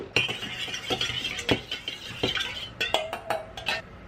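Soy sauce, mirin and sesame oil are stirred together in a small dish, with a series of clinks and scrapes of utensil against ceramic, sharp taps in an uneven rhythm, close and clear with no talking.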